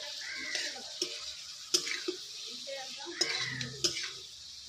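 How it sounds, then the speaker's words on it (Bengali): A spoon scrapes and clinks against a pan as fried okra is stirred into oily masala, with sharp metallic knocks over a faint sizzle. "এবার ভেজে রাখা ভেন্ডিগুলো আমি দিয়ে দেবো মিক্স করে নেবো মশলার সাথে"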